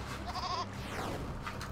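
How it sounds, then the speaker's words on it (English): Goat bleating in the game There Is No Game, one short, nasal, wavering bleat up close, followed by a sweeping synthetic whoosh over a low background drone. "I have a goat right here. A goat!"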